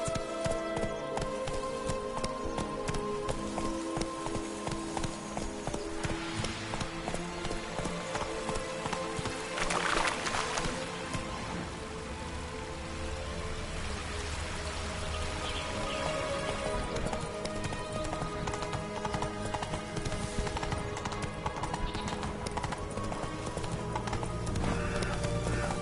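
Roach, a horse in The Witcher III: Blood and Wine, trots with a steady, close clip-clop of hooves that continues throughout, joined by a brief whinny and a light rainy background.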